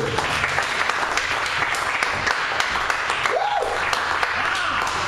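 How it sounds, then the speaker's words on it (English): Audience applause at a cannabis reform fundraiser concert, a steady wash of clapping that fills the whole stretch at moderate level, with faint crowd murmur mixed in. "Please give them some applause too"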